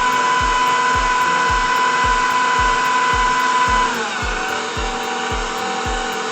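An electric hand mixer whirring loud and steady as it beats banana nut muffin batter with two eggs, its motor hum continuous and close, with a faint rhythmic ticking running through it.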